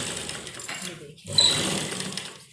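A sewing machine runs close by, stitching fabric for a puff sleeve. Its steady whirring hum breaks off briefly and then starts again while someone talks over it.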